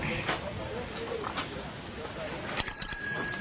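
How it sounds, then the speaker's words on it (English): A bicycle bell rings with a bright, clear ding followed by a quick second ring, heard up close after a stretch of quiet background noise. "Bell lets you know."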